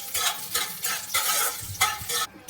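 Dried red chillies and bay leaves are stirred in a frying pan for vegetarian khichuri, with loud bursts of sizzling and scraping strokes that swell and fade in quick succession, no talk.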